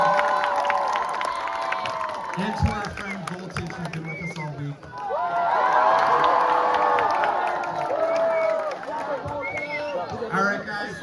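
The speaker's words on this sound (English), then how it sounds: "let's give another big round of applause to our friends" Crowd cheering and applause at a music jam night fill the room in a steady roar, while someone speaks over a microphone on top of it.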